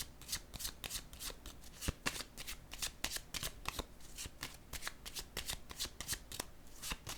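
Playing cards are shuffled and laid down in a quick, steady series of crisp riffling and flicking bursts, close and fairly loud throughout with no talking.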